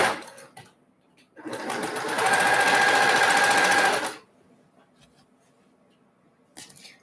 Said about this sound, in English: I'm going to sew this one first, and then sew the other leg on there